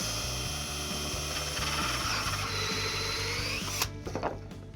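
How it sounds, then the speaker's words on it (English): A hole saw grinds into a wood board with a steady, rhythmic chatter, then the drill whirs down and stops near the end. "What you want to do is drill about halfway through the board. You start and just drill down."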